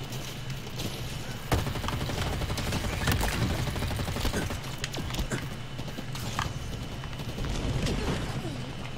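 Rapid gunfire from Halo Infinite multiplayer rattles steadily through the whole stretch, dense bursts with sharp individual shots standing out, loud and close with game effects layered around it.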